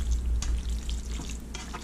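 Pasta gets stirred in a hot pan with Prego Italian sausage and garlic sauce, giving soft sizzling under scraping spoon strokes, close and steady.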